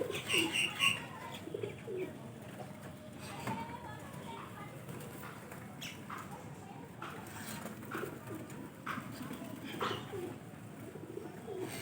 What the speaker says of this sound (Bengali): কত রকমের পায়রা, কি ভালো লাগছে না।